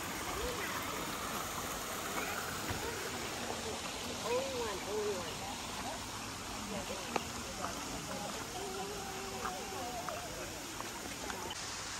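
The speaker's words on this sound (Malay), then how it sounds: "Ni sungai." A river stream flows with a soft, steady wash at a glamping resort in Janda Baik, heard faintly and continuously, with a few brief chirps and small sounds over it.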